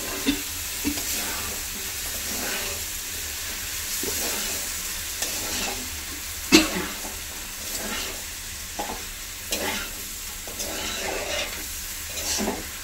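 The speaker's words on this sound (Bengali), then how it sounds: "আর এরপর আমি ভালো করে আলু মটরের সাথে মশলাটা কষিয়ে নেব।" Boiled potatoes and peas being sautéed with spices in a pan, making a steady close sizzle with intermittent stirring scrapes and clinks of the utensil against the pan, and no one speaking.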